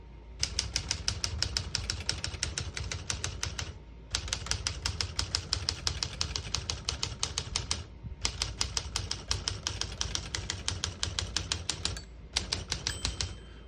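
Rapid keystrokes on a 1959 Smith-Corona Skyriter portable manual typewriter in three long bursts, separated by short pauses that may hold a carriage return and margin bell, close and fairly loud.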